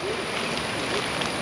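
Water from Thommankuthu waterfall in Kerala rushes steadily down a side channel, a continuous broadband roar close by with no talking over it.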